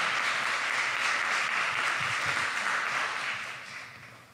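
An audience at a local election candidates' forum in London claps in a dense, sustained round of applause that holds steady, then gradually tapers off toward the end.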